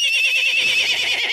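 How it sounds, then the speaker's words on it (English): A horse neighs in the puzzle game Metamorphabet, one loud, close, wavering whinny lasting over a second and standing alone. "Horse."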